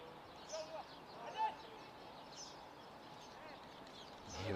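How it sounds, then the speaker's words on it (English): Small birds chirp faintly at a cricket ground during a T20 international in Malta, a few brief calls scattered over steady background ambience. "Hear the birds chirping."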